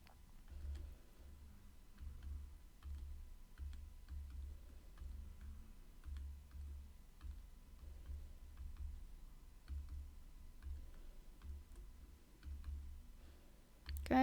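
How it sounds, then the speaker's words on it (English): Calculator buttons tapped while working a trigonometry problem, a series of faint, sparse clicks over a low steady hum, close and quiet with no talk. "let's type that onto the calculator."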